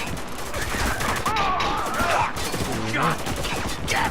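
Bursts of automatic gunfire crackle through a firefight in the military shooter Spec Ops The Line, steady and fairly loud, with someone talking over the shooting.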